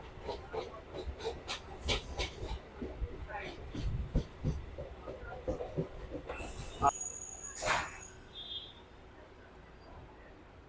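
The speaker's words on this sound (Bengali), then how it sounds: "এই ট্রেনটা ছেড়ে দিল" Dankuni local train pulling out of Balighat station, a clattering rumble with sharp clanks and a hiss, fairly close, then easing into quieter background noise.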